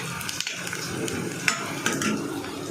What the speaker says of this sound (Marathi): कांदा आपला थोडा पिंकीश झाले, थोडा अजून मऊ करून घ्यायचं आहे